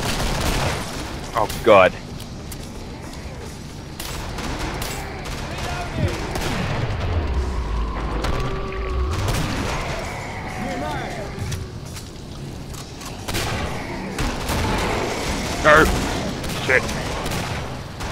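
Gunfire from a weapon in the shooter game Killing Floor, scattered bursts of shots and booms mixed with game noise while someone talks and shouts over the action.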